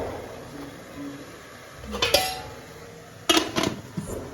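Steamed ada, rice parcels wrapped in teak leaves, stacked into a metal vessel for a Vishu night meal in Palakkad: two short clattering bursts of metallic clinks and scrapes over a quiet room, close and fairly loud, with no voices.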